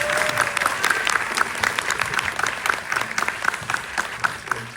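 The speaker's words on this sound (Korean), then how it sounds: "한번 박훈정 감독님에게 박수 한번 보내주실까요?" A Korean film screening audience applauds director Park Hoon-jung after a talk about The Witch 2, with dense, lively clapping from many hands at even loudness throughout and no talk over it.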